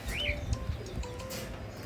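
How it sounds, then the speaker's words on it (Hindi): Pigeons at a loft after grain is thrown down: faint chirps and soft calls with brief wing flutters, quiet and close, with low rustling underneath. "दाना फेंका कबूतर नीचे आते हैं"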